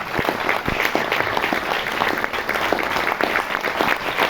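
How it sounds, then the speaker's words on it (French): An audience in a screening room applauds a film director, a steady, full round of clapping from many hands that carries on evenly throughout without a break. "vous pouvez l'applaudir"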